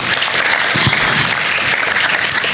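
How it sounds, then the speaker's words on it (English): An audience gives a round of applause for the chief guest at an interschool sustainable development competition, a loud, dense and steady wash of clapping filling the hall. "I just request all of you to just give ma'am a huge round of applause"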